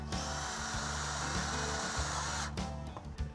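A power drill whines steadily and close up as it drives screws into metal Flex-C Trac framing track, ending with a short burst of clicks and rattles once the drill stops.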